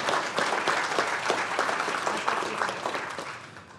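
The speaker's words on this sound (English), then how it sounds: "You guys give them a round of applause." Audience applause after a church talk on managing anger, a steady wash of clapping from a seated crowd that holds for several seconds and slowly tapers, no voices over it.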